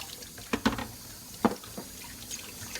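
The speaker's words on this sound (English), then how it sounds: "Sometimes it'll come out just by having the water pour on it, but it's good just to give it an extra little scrub." Tap water runs while a part from a Kuvings whole slow juicer is rinsed and scrubbed in a sink, a soft steady flow broken by a few sharp splashes and knocks, no talking.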